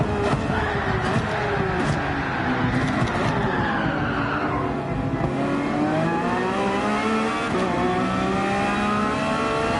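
Porsche GT3 RS race car in Gran Turismo 7 at Interlagos, engine revving loudly with sweeping pitch changes and tire skidding through a power slide, continuous and close with no talk.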